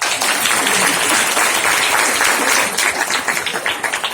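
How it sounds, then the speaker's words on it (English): An audience applauds loudly and steadily at a book launch, with dense clapping that thins slightly toward the end. "The applause needs to be a little louder."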